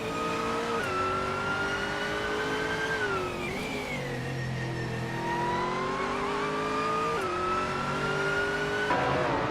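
Racing car engine of a 2010 BMW M3 in a video game, a loud continuous whine rising and falling through gear shifts and revs, steady and close for the whole stretch.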